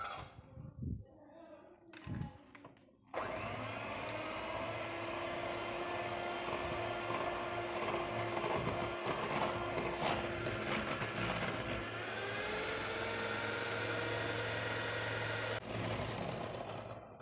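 Electric hand mixer beating cake batter of eggs, sugar, a pinch of salt and vanilla for a cocoa fruit cake, a steady loud motor whir running continuously for about twelve seconds after a brief start, with faint background talk.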